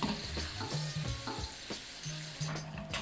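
Shrimp deep-frying in oil in a wok for crispy pepper shrimp, a steady close sizzle and bubbling hiss throughout with a few faint stirring clinks, no voices.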